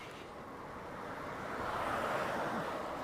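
Wind rushes over the microphone during a bicycle tour in South Korea, a broad steady roar that slowly grows louder, with no voices.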